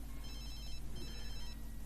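A telephone rings in The Sims in two bright electronic trills over a dense, steady game background, with no voices.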